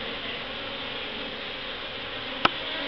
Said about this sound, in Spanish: Aquí adentro hay unas abejitas. Como pueden ver, están vivas